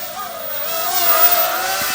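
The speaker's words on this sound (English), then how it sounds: "let's do a throttle punch here" A Boming M19 hexacopter drone's motors whine loudly at a full-throttle punch, holding a steady high-pitched buzz that rises slightly in pitch, close and alone.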